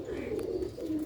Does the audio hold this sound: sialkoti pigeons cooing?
yes